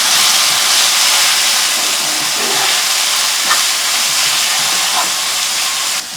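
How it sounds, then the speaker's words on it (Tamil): Garam masala, turmeric and chilli powder sauté in a pan, giving a loud, continuous sizzle and hiss with faint scraping stirs underneath. "இது எல்லாத்தையும் சேர்த்து நல்லா வதக்கிக்கணும்."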